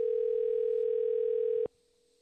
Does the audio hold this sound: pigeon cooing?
no